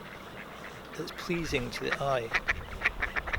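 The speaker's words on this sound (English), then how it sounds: "I've got a full complement of ducks and swans just to my right, are competing for attention" Ducks quacking beside the river Thames at Henley-on-Thames, with swans nearby; someone speaks briefly outdoors before a run of repeated nasal quacks rises close by, overlapping and fairly loud.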